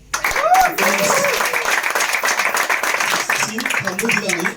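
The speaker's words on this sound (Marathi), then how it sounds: "यांच्यासाठी पण टाळ्या की" A crowd applauds warmly and steadily at a gathering honouring Sindhutai, the clapping dense and continuous with voices and chatter mixed in throughout.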